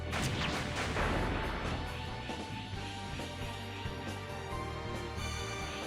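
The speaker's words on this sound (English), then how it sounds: "Explosion." Explosions in the video game Valkyrie Profile 2: Silmeria, a dense, loud barrage of booming blasts and crashing impacts running continuously with no voices.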